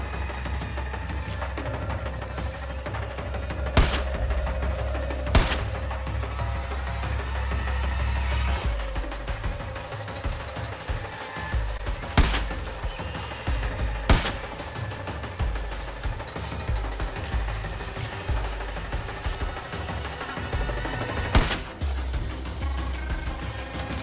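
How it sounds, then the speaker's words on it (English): Gunfire in the video game Far Cry 5, several sharp isolated shots cracking out at intervals over a steady background hum of game ambience and mechanical noise. "What's shooting at me?"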